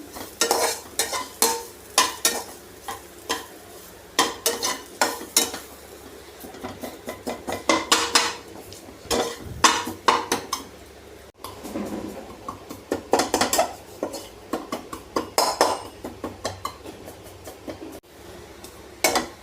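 Masala being fried for a spicy bitter gourd kakarakaya karam, stirred hard in a metal pan with rapid scraping and clanking of a spatula over a continuous sizzle, loud and close throughout.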